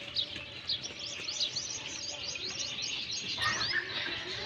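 Small chicks chirping near a newly arrived Eid sacrificial animal, a dense run of high, rapid peeps and tweets overlapping throughout, steady and fairly close with no talk.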